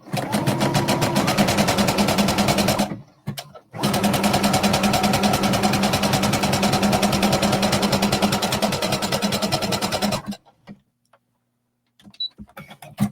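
A sewing machine stitches a 3/8 inch seam allowance on a tunic, running in a fast, steady whir close by, stopping briefly, then running again for several seconds before going quiet with a few small clicks.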